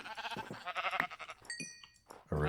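Sheep in the Minecraft modpack GregTech New Horizons bleat in short, close, repeated calls, several overlapping cries in quick succession with brief gaps.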